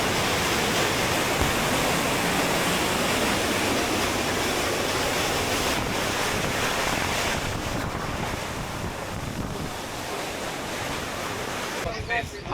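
Ingleton waterfall in the Yorkshire Dales, water splashing and pouring in a steady loud roar that fills the whole clip, close by with wind buffeting the microphone and no talk.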